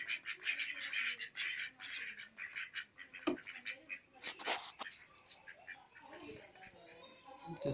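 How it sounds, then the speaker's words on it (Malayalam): Fourteen ducks in a small netted enclosure on a home farm quack repeatedly in overlapping nasal calls, near and steady throughout. "14 താറാവുണ്ട്."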